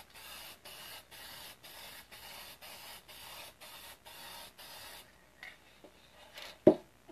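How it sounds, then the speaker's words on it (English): A thick layer of clear coat goes on from a spray can in about ten evenly spaced hissing bursts, close and moderately loud, followed by a few scattered taps and one sharp knock. "So I'm going to add a nice thick layer of clear coat to make my painting nice and glossy."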